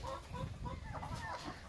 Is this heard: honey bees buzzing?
no